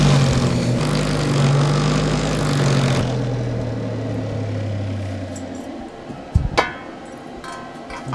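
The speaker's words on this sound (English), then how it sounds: "this is just a buffing wheel, so it shines everything up" A jeweler's buffing wheel loaded with polishing compound spins in a workshop, giving a steady loud motor whine and broadband whir for several seconds before easing off, with a couple of sharp knocks near the end.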